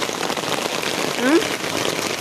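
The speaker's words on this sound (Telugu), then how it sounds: "ఎండ కాస్తా ఉంది, వర్షము పడుతుంది" Steady broadband patter of rain falling during sunshine, continuous and moderately loud, with a brief faint voice-like tone in the middle.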